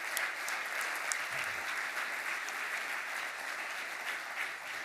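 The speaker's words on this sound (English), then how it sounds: "I suggest a round of applause for people who help you out every day." A workshop audience applauds continuously for about five seconds, a dense, even wash of clapping from many hands that stays at a steady level throughout, with no talking over it.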